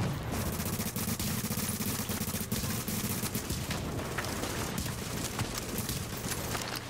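Gunfire from a SCAR L rifle and surrounding combat in The Division, heard as a dense, continuous wall of noise broken by scattered sharp shots throughout, loud and sustained.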